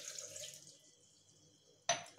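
Water is poured into a blender jar holding dates, cashews and almonds: a faint, thin trickle, then a brief, sharper splash near the end, with no voices.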